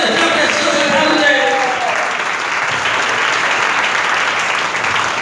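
A church congregation applauds loudly and steadily for several seconds, a dense roar of clapping with some voices mixed in during a Spanish-language sermon.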